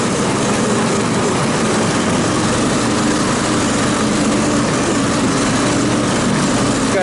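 Homemade UTV built from a recycled Mule and golf cart parts, its small Predator engine held at full throttle, a loud steady drone with constant roar and rattle running continuously, close up and without pause.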